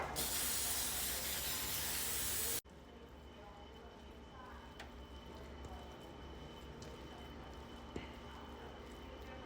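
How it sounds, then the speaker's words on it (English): A loud, continuous hiss of non-stick cooking spray onto a baking dish lasts a couple of seconds, then stops abruptly, leaving quiet room tone with a few faint clicks. "we're gonna spray the baking dish with a little bit of non-stick cooking spray"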